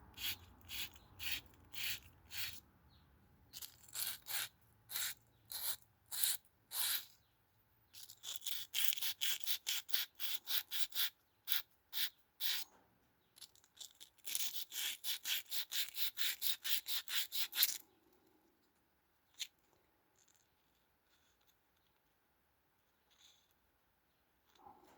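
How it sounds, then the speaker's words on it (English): Fine sandpaper rubbing a Peugeot 404 speedometer drive gear by hand in rapid rhythmic strokes, close and fairly loud, in repeated bursts that stop near the end, leaving faint handling noises. "We can do it with a sandpaper."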